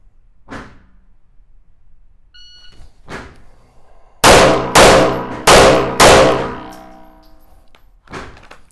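Handgun shots fired during a timed dot torture drill at an outdoor range: four loud, sharp reports in quick succession, closely spaced, with a lone shot before them and a few fainter single shots spread across the rest.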